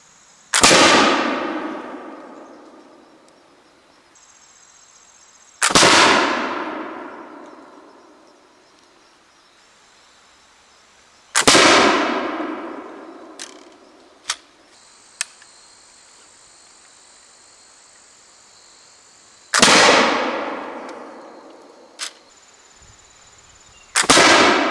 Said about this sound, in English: take 5 shots on a 25-yard target and just see where it's hitting